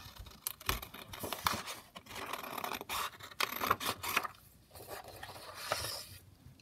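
Scissors snipping and scraping through a paper ephemera banner piece for a craft lapbook, a quiet, close run of irregular cuts and rustles with no talking.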